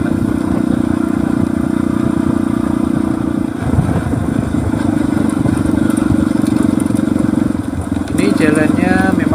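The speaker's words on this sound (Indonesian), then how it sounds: "Ya itu tadi motor saya soknya mati nih, jadi saya juga ikut loncat-loncat ini." Motorcycle with dead rear shock absorbers riding over a wavy, bumpy road, the engine humming steadily with rattling clatter mixed in and a sharper burst near the end.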